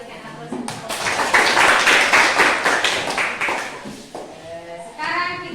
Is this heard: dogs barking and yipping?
no